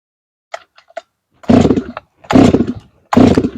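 A Farmertec G366 chainsaw, a clone of the Stihl MS361, sputters with a few faint pops, then roars at high idle in three loud bursts with short gaps between them, close by and without speech.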